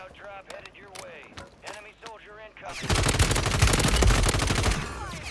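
Rapid automatic gunfire in the Warzone Rebirth video game erupts midway as a loud, dense burst of shots after a stretch of someone talking, continuing for a couple of seconds.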